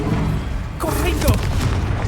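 A Confringo spell blast in Hogwarts Legacy combat, a sudden booming burst with crackling debris that rises over ongoing battle noise and a spoken incantation.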